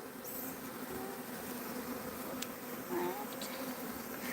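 A swarm of bees hums in a dense, continuous buzz close by, with a few individual bees darting past the microphone and no one speaking.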